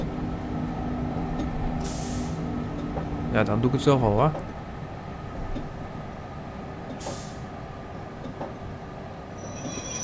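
A KLM Thalys high-speed train braking in Train Simulator 2020, a steady rumbling run with a rising and falling squeal and hiss of air brakes partway through, under someone talking in Dutch.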